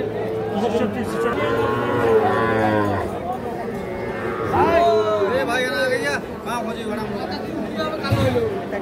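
Cattle lowing at a bustling livestock market in Bangladesh where young bulls and calves are sold, several drawn-out moos near and loud over steady crowd chatter and people talking.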